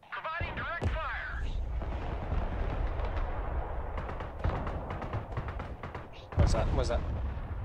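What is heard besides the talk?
MLRS rocket artillery firing in the video game Broken Arrow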